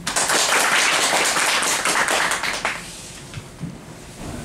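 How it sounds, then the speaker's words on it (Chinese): At a Confucian civic forum, the audience applauds to welcome the speakers with a burst of dense clapping that gradually thins into scattered claps and fades out. "那我们现在以热烈的掌声呢"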